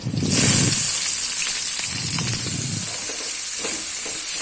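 Onion, green chillies and curry leaves fry loudly in hot oil with mustard seeds and cumin for a North Karnataka cluster bean palya. A close, bright hiss and sizzle runs throughout, with occasional scraping stirs underneath.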